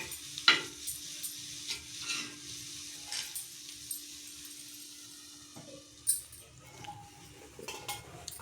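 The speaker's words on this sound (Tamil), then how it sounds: "இப்போ லேசாக மிக்ஸ் பண்ணிக்கலாம்." Paneer masala for a dosa is stirred gently in a pan, a few soft utensil clinks and scrapes over a faint background sizzle, quiet and sparse, with no talking.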